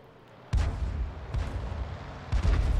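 Heavy artillery fire lands on a marked target in a World of Tanks-style game featuring the SU-5 self-propelled gun: three deep booming blasts with rumbling tails, loud and close, with no talking.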